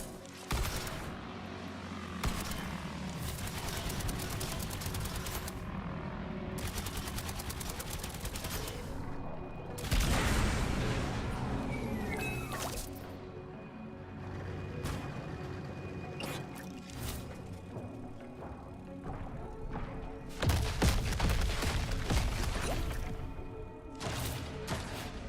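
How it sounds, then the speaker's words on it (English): Anti-air weapons in the Trailmakers video game fire in dense, sustained bursts, with heavy blasts flaring up around the ten- and twenty-second marks over a constant loud mechanical drone. "Are you firing anti-air weapons at me on the ground?"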